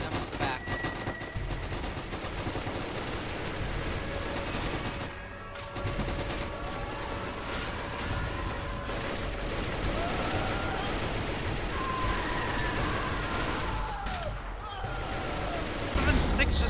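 Constant gunfire in the Roblox game rBREACH, dense overlapping automatic shots forming a loud continuous barrage with game effects running underneath.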